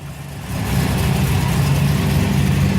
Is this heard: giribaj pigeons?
no